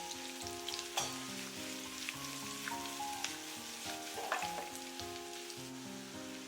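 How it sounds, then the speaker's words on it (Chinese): Water bamboo is stir-fried in a wok and tossed constantly, giving a continuous oily sizzle with scraping and stirring bursts. Background music plays throughout. "这个煎炒的过程大概3分钟左右。 煎炒的同时，一定要不停的给它翻动。"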